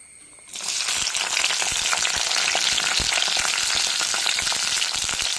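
Sliced onion and green chillies fry in an iron pan with a loud, steady sizzle that starts abruptly after a short quiet moment and continues densely with scattered crackles and pops.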